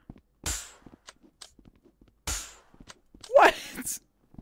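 Gunfire in the Rec Room video game: two sharp, close shots spaced a couple of seconds apart, with a voice exclaiming over a later burst and faint clicks between.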